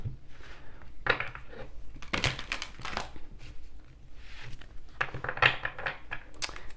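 Tarot cards being shuffled by hand, a steady papery riffling and crinkling in repeated bursts, close and fairly soft, with no talking.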